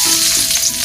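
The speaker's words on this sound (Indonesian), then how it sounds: "Kita tumis bawang putih ya" Finely chopped garlic sizzles in hot frying oil, a loud, close, steady hiss.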